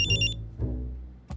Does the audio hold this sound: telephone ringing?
yes